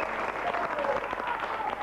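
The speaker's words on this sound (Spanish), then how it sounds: "fuerte el aplauso para el número 2" A studio audience on the 2001 Uruguayan TV show Videomatch bursts into brief, dense applause with scattered cheers and a voice underneath, loud and close for under two seconds.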